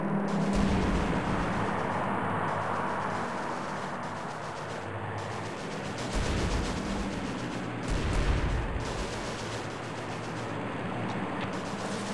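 Heavy gunfire and explosions fill a World War II paratrooper game set in spring 1944, a dense continuous roar of weapons with heavier booming surges near the middle and end.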